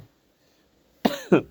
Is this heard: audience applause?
no